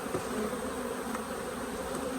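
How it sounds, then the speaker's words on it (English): Honey bees buzz steadily around an open hive with the excluder lifted, a dense close hum filling the whole stretch without pause. "Bees are going to kind of start robbing this."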